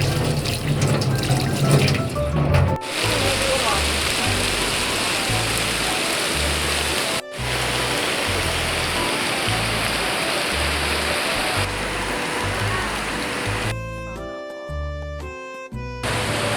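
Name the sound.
rain falling at a school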